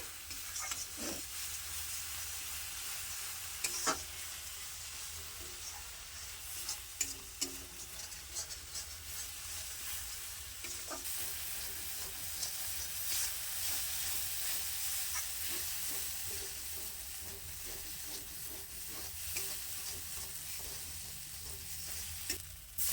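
Masala spices fry in just a little oil for a curry, a continuous bright sizzle with occasional scraping stirs and light clatter, steady and close, with no voices.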